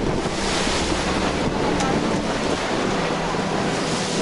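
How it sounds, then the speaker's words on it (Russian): Strong headwind of about 25 knots roars across the microphone on a yacht in the Strait of Messina, over rushing sea and waves, a loud, continuous buffeting with no voices. "Ветер встречный, где-то 25 уже задувает"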